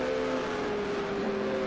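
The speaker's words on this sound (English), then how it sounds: "There goes Bill Skillman and his air-cooled Porsche" An air-cooled Porsche race car roars past at a vintage racing event, a loud steady engine tone with a slight pitch drop as it goes by.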